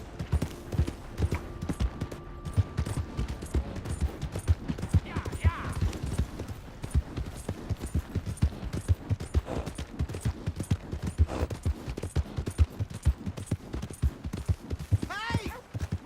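Horse hooves clip-clop in a steady, continuous rhythm throughout in a Red Dead Redemption 2 video game scene, with occasional voices and a brief whinny-like call over the trotting.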